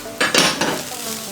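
Pre-cooked, crushed boneless chicken is stirred into masala in a pan, giving a few sharp metallic scrapes and clatters of a spoon against the pan in quick succession, close up, with little else around them.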